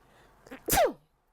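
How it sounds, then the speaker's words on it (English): A single sharp sneeze, close and loud, preceded by a short breathy intake, then silence. "I got to sneeze."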